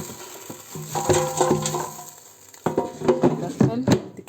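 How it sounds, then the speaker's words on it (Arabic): Potato fries are tossed in an air fryer basket in two bursts of rattling, scraping clatter, close and moderately loud, with a quiet gap between the shakes. "وهندي تقليبه"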